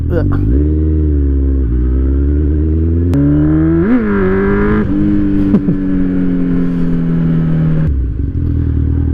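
Kawasaki Z1000 motorcycle engine with no catalytic converters, heard on the overrun during a ride, with a steady close engine drone shifting in pitch and a few blips, running under continuous talk.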